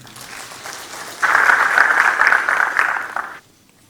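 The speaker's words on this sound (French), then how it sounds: "je vous demande de les applaudir pour leur continuité et leurs efforts" An audience at an oncology debate applauds the organizers of the tenth gathering. Soft clapping swells into a full, sustained burst of applause, then cuts off abruptly into quiet.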